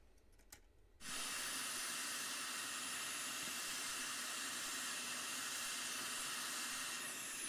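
A hot air rework station with a small nozzle, used to remove a laptop BIOS chip, starts abruptly after a quiet moment and keeps up a loud, steady, close airy hiss.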